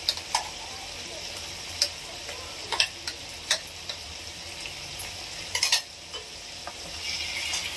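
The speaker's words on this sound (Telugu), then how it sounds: "మసాలా అంతా వేగుతుంది." Green masala paste frying in oil for chicken curry, a steady close sizzle with scattered sharp ticks and clicks of a spoon against the pan, no voices.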